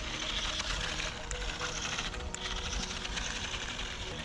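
A Jule 2815B Max Cheetah 1:20 scale two-wheel-drive RC desert buggy bounces over stones, its small motor whirring steadily under a continuous gravelly rattle, close by.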